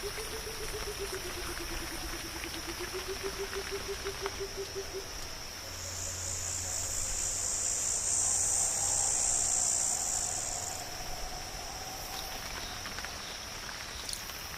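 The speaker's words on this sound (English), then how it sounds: "cicadas have emerged to call for mates under the relative shelter of branches" Cicadas in Australia call in a continuous high shrill buzz, with a louder rising swell of calling in the middle over a soft background hum.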